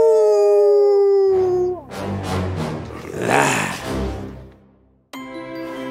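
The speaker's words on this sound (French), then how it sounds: "Le loup hurla de rage." A wolf howls in rage as a sound effect in a told fairy tale, one long wavering howl followed by a roaring, snarling burst and a fresh howl, loud and close.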